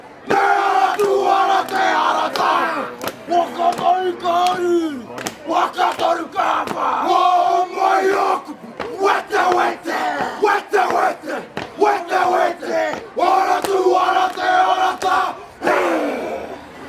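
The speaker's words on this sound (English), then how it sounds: "the noise that you were hearing there is people celebrating the Bruce Mason Centre's graduates as they tumble out into the street here" Large outdoor crowd cheering, whooping and shouting as university graduates pour out of a graduation ceremony at the Bruce Mason Centre into the street; loud, dense and sustained with surging bursts of voices.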